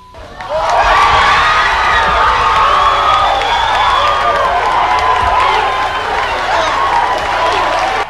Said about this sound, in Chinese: 现场观众大声叫好。